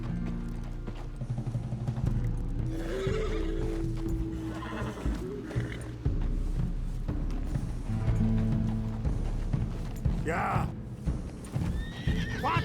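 A horse ridden in Red Dead Redemption 2 clip-clops at a steady pace, snorting and whinnying at times, while characters talk over the hoofbeats and faint tack creaks.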